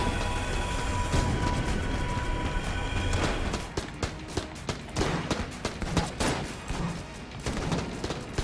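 Rapid bursts of gunfire in the video game Enter the Gungeon, dense crackling volleys at first, then separate sharp shots popping at an irregular rhythm.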